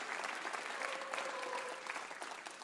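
An audience at a live folk music show gives a sustained round of applause, dense steady clapping from a crowd throughout the short stretch.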